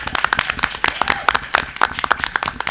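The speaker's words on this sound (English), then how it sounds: "let's give a big round of applause for the clearing" A city council chamber gives a modest round of applause, a handful of distinct people clapping at uneven rhythms, close and clear, with no talk over it.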